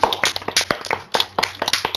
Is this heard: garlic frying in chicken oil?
no